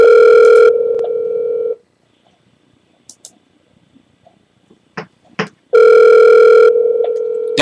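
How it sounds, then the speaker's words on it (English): A telephone gives a loud steady dial tone that cuts off, followed by a stretch of quiet with a few soft clicks and brief tones as the number is dialed. The loud tone then returns at the end. "Here we go. We're dialing."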